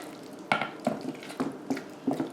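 Mustard and mayonnaise are stirred together in a bowl, giving five or six soft, evenly spaced scraping and clinking strokes, close and fairly quiet, with no talking.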